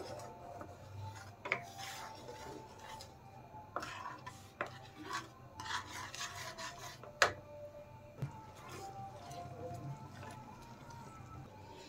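Tamarind chutney with chilli powder stirred in a pan, giving soft scraping and rubbing strokes with a few sharp clinks of the spoon against the pan, faint and irregular.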